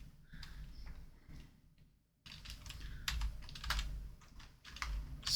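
Quiet keystrokes on a computer keyboard come in irregular bursts, with a short silent gap before the typing picks up again, sharper and busier.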